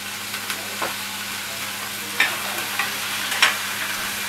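Meat sizzles steadily and loudly in a hot frying pan with oil and stock, a constant crackling hiss with occasional sharper pops and the scrape of stirring.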